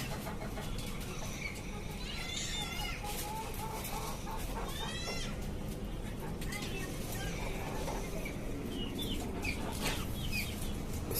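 Tiger chickens in cages on a rooftop farm cluck and a rooster calls over steady farmyard noise, with scattered bird calls and a voice talking in the background.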